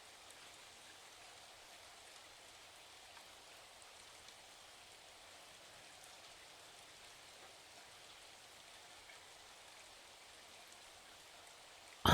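Steady, soft rainfall patters evenly without a break, a faint constant wash of drops that holds at one quiet level throughout.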